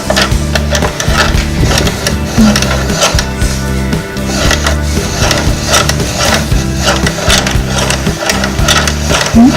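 A yarn winder spins wool yarn with a rapid, rhythmic wooden clattering and whirring, loud and close, its repeating mechanical pulses continuing without a pause.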